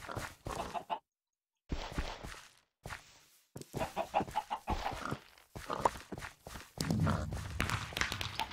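Chicken clucking in a blocky sandbox video game, with short scattered clucks and footstep-like taps over a busy game soundtrack, moderately loud throughout.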